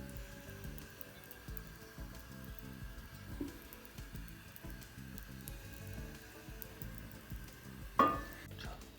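Oil sizzles faintly on a hot tawa as it is spread for roasting sweet potato, a soft, steady crackle with one brief, sharp clatter near the end.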